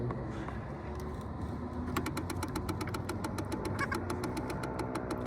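Engine revved to full throttle while checked after a fuel filter change, a continuous loud rumbling drone with a rapid ticking, knocking rhythm rising over the second half.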